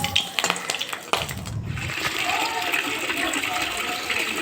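Drinking water pouring into a container, a steady close gush and trickle after a few clinks and knocks, with quiet talk in the background.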